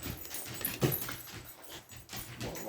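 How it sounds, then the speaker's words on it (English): A dog whimpers and whines indoors at a home, soft, high plaintive cries close by with light panting between them, no talk over it. "My dogs are adorable."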